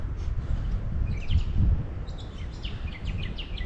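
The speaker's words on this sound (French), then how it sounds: "Et on entend les petits oiseaux." Small birds chirping and twittering outdoors by a plain and a small forest in Tasmania's Tarkine region, faint high calls scattered over a soft steady breeze and low rumble.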